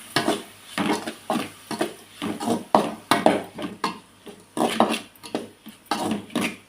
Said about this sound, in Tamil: தக்காளி ஆட் பண்ணி இதையும் நல்லா வதக்கிக்கலாம்.